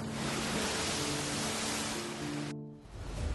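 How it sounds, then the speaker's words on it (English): Ferocious ocean surf pounds Reynisfjara black beach in Iceland as a loud, steady roar of breaking waves and rushing water, briefly dropping out before a low rumble returns. "the ocean waves are ferocious"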